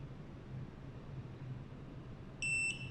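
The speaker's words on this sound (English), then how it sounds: "Now, press the reset button for 5 seconds. You will hear a beep" A multi-brand access keypad gives one short, clear electronic beep after its factory reset button is held, sounding near the end over a steady background hiss.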